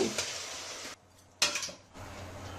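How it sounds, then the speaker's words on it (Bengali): Bottle gourd pieces tipped onto fried egg in a rice cooker set off a loud sizzle that cuts out, then flares again in a sharp burst before settling into a steady frying hiss. "এই পর্যায়ে আমি এখন লাউগুলা দিয়ে দিব।"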